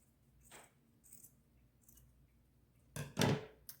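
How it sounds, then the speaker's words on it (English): Scissors snip around a corner to round it off: a few faint, soft cuts spaced apart, then a louder, closer double snip near the end, with no talking. "I'm just going to take my scissors and I'm going to round off"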